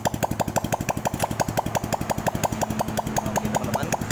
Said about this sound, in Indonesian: saya akan tes hidup aja langsung tanpa menggunakan knalpot